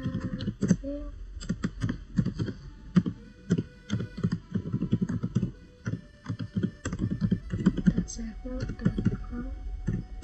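Keyboard keys clatter in quick, uneven bursts as commands are typed at a computer during Debian DNS server configuration and testing, with someone talking over the clicks nearly throughout.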